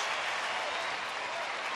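Baseball crowd of 46,500 on their feet at Rangers Ballpark, a steady, distant wash of applause and cheering with a broadcast voice over it.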